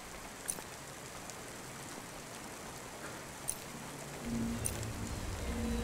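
Steady, soft rainfall from the neon-lit city of the video game Cloudpunk hisses evenly throughout, broken by a few sharp drip-like ticks, with a low droning hum swelling in near the end.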